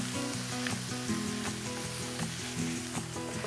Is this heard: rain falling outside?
no